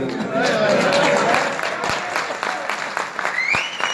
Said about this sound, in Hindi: कुछ तालियां बजाइए